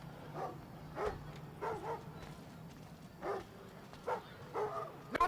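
Guard dogs in the stealth video game Thief on PS4 bark in several short, sharp bursts at irregular intervals over a low ambient drone, moderately close.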